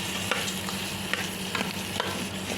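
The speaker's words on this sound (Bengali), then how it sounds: "এখন এই তো নাড়াচাড়া করে দিচ্ছি।" A spoon stirs rice khichuri in a rice cooker, giving repeated scraping strokes at an irregular rhythm over a soft, steady sizzle, close and fairly quiet with no voices.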